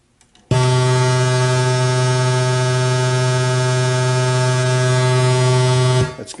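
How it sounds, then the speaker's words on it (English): A modular synth oscillator plays a zigzag waveform as a loud, steady, harmonically rich buzzing drone of about five seconds that starts abruptly and then cuts off. "The third is a kind of zigzag wave."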